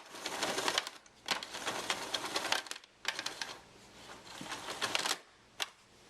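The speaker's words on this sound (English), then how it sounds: "When you're finished vacuuming and you want to retract the power cord, you simply press this button" The power cord of a Dyson DC39 Animal canister vacuum retracts into the body in loud, close rattling bursts with short pauses between them, ending in a final quick snap.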